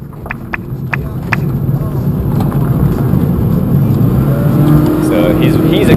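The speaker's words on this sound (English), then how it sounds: "you can hear that the car is still accelerating" A hacked car keeps accelerating after the driver lifts his foot off the pedal, its engine droning steadily and loudly from inside the cabin under intermittent talk.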